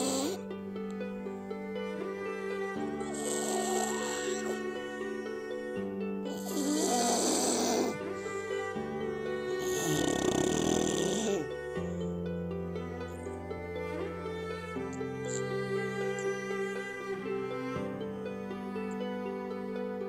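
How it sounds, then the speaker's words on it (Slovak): A sleeping dog snores in loud, close, rhythmic cycles, each rasping inhale followed by a softer exhale, repeating about every few seconds with no talk. "nech sa páči, Piero chrápe."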